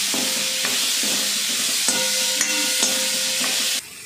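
Finely chopped tomato and onion sauté in a pan with a soft, even sizzle, punctuated by several sharp taps and scrapes of a spoon stirring against the pan.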